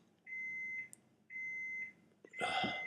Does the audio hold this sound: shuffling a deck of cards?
no